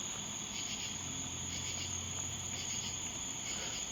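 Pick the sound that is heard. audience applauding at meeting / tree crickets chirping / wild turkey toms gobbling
tree crickets chirping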